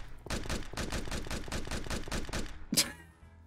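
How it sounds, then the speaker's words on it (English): A gun fires in a Minecraft video game as a rapid burst of about a dozen evenly spaced sharp shots, loud and close, ending with a final brighter crack. "I'm gonna dig all the way up to the surface with a gun"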